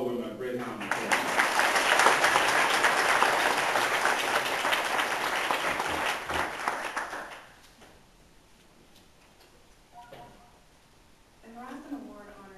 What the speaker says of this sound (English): Let's give all the women a great round of applause.